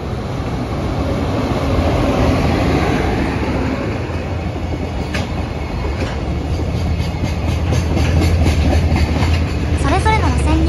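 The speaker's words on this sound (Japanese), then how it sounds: "それぞれの路線に頻繁に列車がやってきては通過していくので" A train runs through Toyohashi station on the shared Iida Line and Meitetsu track, rolling loudly and close with rhythmic wheel clatter, rising and falling rumble, and a brief squeal near the end.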